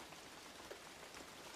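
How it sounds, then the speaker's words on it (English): Soft, steady rain pattering outside a window, a faint, even hiss with scattered light drops and no voices. "listening to the soft beat of the rain behind the window"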